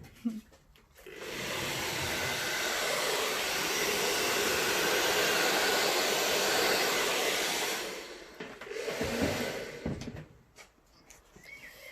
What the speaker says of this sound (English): Do it with the hairdryer.